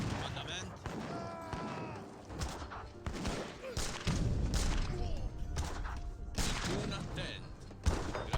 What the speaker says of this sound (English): Culverins picking off some of the leather cannons, getting good volleys onto them.